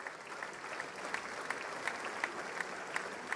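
Thunderous applause for the Prime Minister of India at a joint session of the US Congress, a dense steady wash of clapping with sharper bursts at regular intervals, held throughout.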